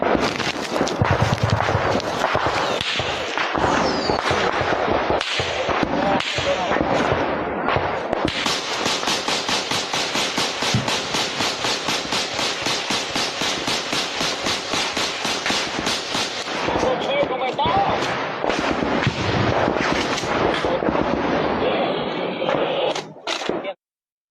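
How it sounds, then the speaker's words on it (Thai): A Thai army artillery barrage and gunfire pound Khmer positions, a dense relentless stream of loud blasts and cracks with a long stretch of rapid continuous firing, close and harsh, with no voices. "นาทีเดือดที่กองทัพไทยระดมยิงถล่มฐานที่มั่นของทหารเขมร"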